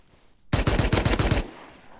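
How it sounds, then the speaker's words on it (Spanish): Gunfire rattles out in the video game Rust as a rapid burst of about eight close, loud shots lasting roughly a second. A brief tail of quiet follows. "Le dispara a su compi."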